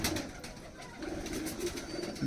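A female Rampuri pigeon in a loft gives soft, repeated throaty coos, fairly close and steady throughout, with no voices present.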